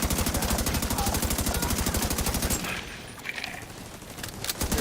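Submachine gun fire in the video game The Division 2, a long rapid automatic burst of evenly spaced shots, loud and close, then stopping into quieter game ambience with scattered impacts.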